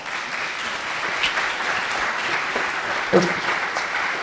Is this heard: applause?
yes